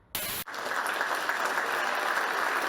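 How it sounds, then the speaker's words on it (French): Applause from an audience fills a hall in Woustviller, a sustained, dense clatter of many hands after a brief sharp burst at the start, steady and loud to the end. "Des applaudissements, un son qu'on n'avait plus entendu depuis longtemps dans la salle du W à Woustviller"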